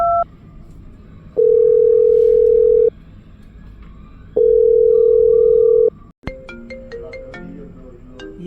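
Telephone tones: a brief two-note chirp, then two long steady ringback beeps separated by pauses, followed by an abrupt cut into a different tonal segment with sharp repeated clicks.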